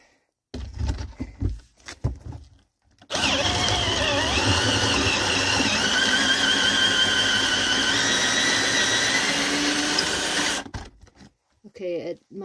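A Black & Decker handheld electric drill bores a 40 mm hole through a wooden board, running loud and steady for about seven seconds, with rattling handling noise before and after the cut.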